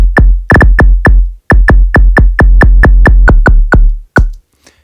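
Tearout bass synth with heavy pitch automation and full low end: loud, clicky stabs with deep sub weight, firing in quick rhythmic bursts with sharp pitch drops, a short gap midway, then trailing off near the end.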